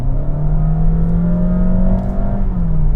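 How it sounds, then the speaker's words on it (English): Honda Vezel engine strains under hard acceleration, a loud, droning whine that rises slowly in pitch and holds steady for three seconds with no talking over it. "The engine just makes a noise like the clutch is slipping, and it really complains, and it's quite noisy"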